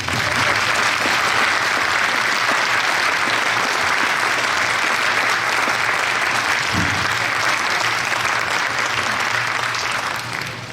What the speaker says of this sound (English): Let's give a round of applause for David Steele